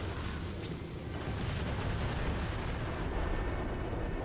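A thrown grenade detonates in Crackdown 2, a dense, roaring blast of rumbling noise that holds loud and steady for several seconds amid ongoing combat.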